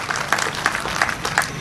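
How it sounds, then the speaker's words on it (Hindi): An audience at a Hindi poetry gathering applauding, with dense hand clapping rising and falling in quick bursts, moderately loud and close, with no voices on top. "मैं चाहता हूं पूरा सदन एक बार जोरदार तालियों से बुलाएं"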